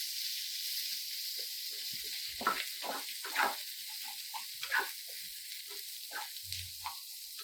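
Onions, green chilli and garlic fry in a pan with a steady, soft hiss, broken by a few louder crackles and stirring scrapes, with no talking.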